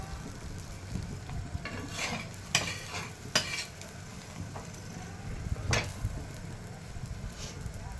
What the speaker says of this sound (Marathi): छान अशी भाजून घ्यायची आहे दोन्ही साईडने